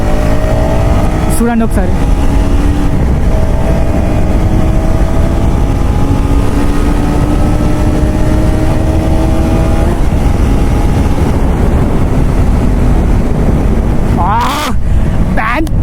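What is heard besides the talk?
2026 KTM Duke Gen 3 motorcycle engine while riding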